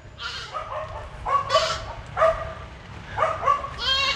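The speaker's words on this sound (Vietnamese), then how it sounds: "ra ngoài cửa tụi nó quýnh chết. Mấy con chó nó dữ lắm." Fierce farm dogs bark close by, firing off several sharp, loud barks in irregular bursts with short gaps between them.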